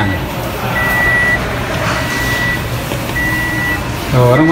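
A new vehicle reverses with a regular series of steady electronic warning beeps over a low engine rumble and road noise, with a brief voice-like sound near the end.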